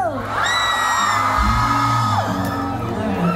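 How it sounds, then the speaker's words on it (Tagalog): A loud crowd of spectators at a mall event shouts, whoops and cheers together in a sustained burst, with rising yells layered over a dense roar. "Ang lahat ng Kapampangan, sumigaw!"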